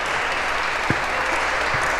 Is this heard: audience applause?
yes